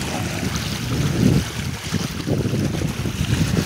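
Wind blows steadily over open water with tide running during an in-water test of an outrigger boat with a 10-foot beam, giving a loud, continuous rumbling buffet with gusty swells close to the microphone.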